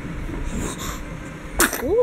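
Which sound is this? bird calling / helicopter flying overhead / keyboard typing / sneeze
sneeze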